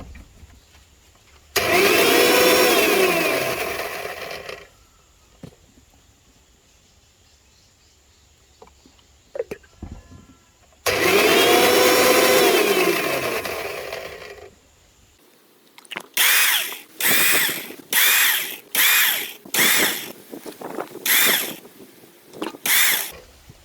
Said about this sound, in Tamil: கொஞ்சம் கொஞ்சமாக லோ ஸ்பீடில் அரைக்கணும்